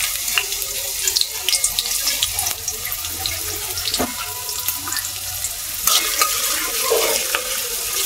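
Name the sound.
chopped onion frying in oil in a wok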